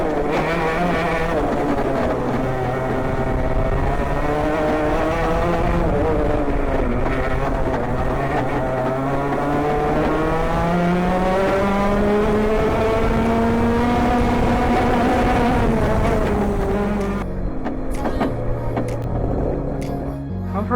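A racing kart running on a circuit, its engine note rising and falling in pitch as it accelerates and lifts through corners, loud and continuous, then cutting to quieter, choppier sound near the end.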